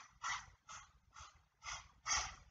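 A person imitating a hot dog panting, five rhythmic breathy huffs in a steady in-out pattern, close and fairly soft, the last one the loudest.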